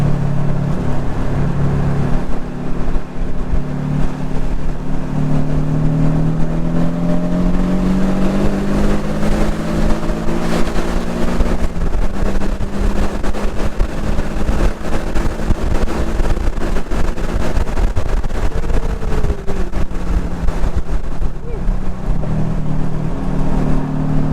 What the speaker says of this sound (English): See now, our flyby, I'm not going to be able to go all the way in this car. We'll be going way too fast.